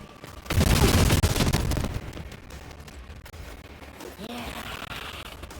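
Gunfire in the Rogue Trader game, with a loud burst of rapid shots that starts early and fades within about a second, followed by quieter combat effects and a rising tonal whoosh near the end.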